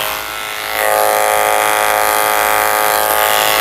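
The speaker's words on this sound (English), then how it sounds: "I'm going to use a 10 blade at the base of his tail." Electric dog clippers fitted with a 10 blade shaving the base of a toy poodle's tail, a steady close, loud motor buzz that rises in strength just under a second in and holds with slight tonal wavering.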